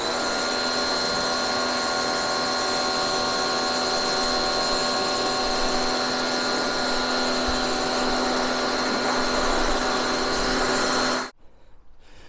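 A car being rinsed after pre-wash and snow foam, a loud, steady, close hiss and whine from the rinsing machine running nonstop for about eleven seconds, then cutting off into quiet.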